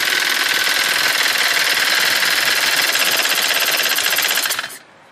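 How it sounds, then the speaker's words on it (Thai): A small sprayer engine whose intake valve opens early runs with a rapid, high-pitched mechanical buzz and rattle, steady and close, then cuts off sharply near the end, leaving near silence. "ถ้าเสียงนี้จำเสียงนะครับคือจังหวะไอดีเปิดเร็ว"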